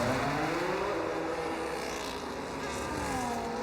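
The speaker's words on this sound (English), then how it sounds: "Joe peels into the pit lane. Hard tyres onto the Mercedes." A Mercedes race car in an F1 game at Las Vegas drones steadily through the pit lane, its engine a constant close whine with a faint shifting tone and no break.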